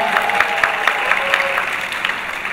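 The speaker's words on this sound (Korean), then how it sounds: "박수를 이렇게 또 쳐줘서 감사드리네." An audience at a stand-up comedy show at the Busan International Comedy Festival claps together in a dense, even burst of applause that runs for a couple of seconds at moderate loudness.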